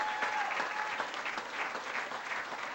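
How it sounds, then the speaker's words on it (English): Audience applause at a rock show, a steady wash of many hands clapping from a moderately distant crowd, fairly quiet and even for the whole stretch. "Let's give another round of applause, ladies and gentlemen"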